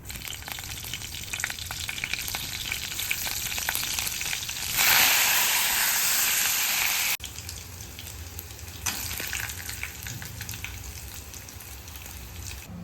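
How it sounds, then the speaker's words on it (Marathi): Cumin seeds crackle in hot oil in a home kitchen pan, a steady frying hiss that swells into a louder burst for a couple of seconds before settling back, with no voices. "तेल गरम होत आहे बघा, तर त्याच्या टाकीला आपण टाकूया जिरं."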